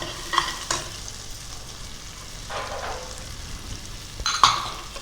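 Cloves and shahjeera frying in oil for a mutton curry, a soft continuous sizzle with a few sharp utensil taps and brief scraping stirs, close but fairly quiet, no talking.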